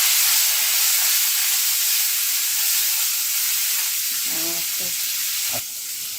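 Onion and garlic frying in a pan, a loud close hiss and sizzle that fades slightly, broken near the end by a few brief stirring clinks and knocks.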